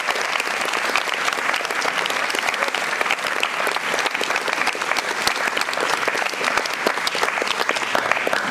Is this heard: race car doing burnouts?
no